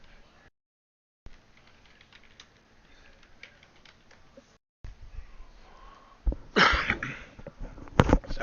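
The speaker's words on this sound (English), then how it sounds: "Sorry, didn't mean to cough in your ear." A couple of sharp coughs near the end, close and fairly loud, after a stretch of quiet keyboard tapping and faint room noise.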